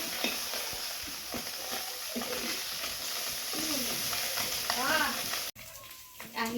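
Fish sizzles steadily in hot oil in a pan while being stirred for a simple village dish, a close, constant crackling frying hiss with scraping stirs, under faint speech and distant bird calls, briefly cut off near the end.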